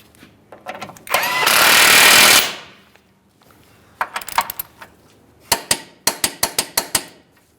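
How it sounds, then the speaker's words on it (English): A ratchet wrench tightens the forward mounting bolt of a CV axle on a 2013–2020 Ford Fusion 2.0L I4: a burst of rapid clicking, then several sharp close metallic clacks in quick succession. "For this, we're going to snug it and torque it to 159 foot-pounds."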